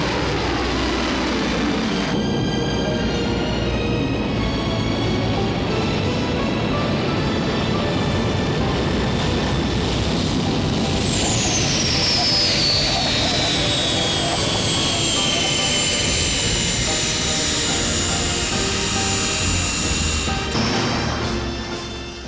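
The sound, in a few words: aircraft flying, airplane and helicopter hybrids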